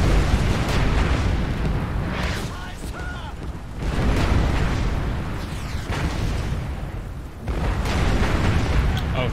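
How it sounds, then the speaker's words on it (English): Artillery shells explode in War Mongrels, with repeated heavy booming blasts and rumbling bursts arriving in waves a few seconds apart, with shouted voices mixed in among them. "Incoming artillery fire!"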